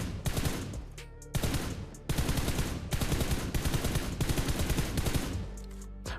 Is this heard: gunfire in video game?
yes